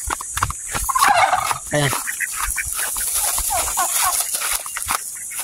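Turkeys gobble in short, warbling bursts at close range, over a steady background hiss and some low voices.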